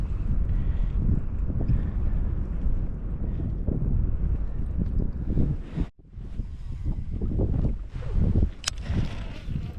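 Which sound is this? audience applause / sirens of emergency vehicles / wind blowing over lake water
wind blowing over lake water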